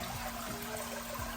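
Salt water is pumped into a drained home saltwater aquarium tank, a continuous steady rush and trickle of liquid heard alone at close range.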